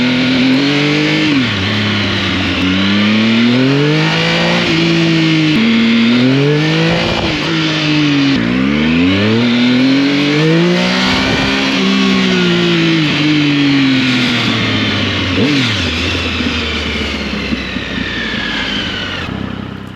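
A Triumph Speed Triple motorcycle engine with a K&N air filter revs repeatedly, rising and falling in pitch as it accelerates through gears, loud and close throughout.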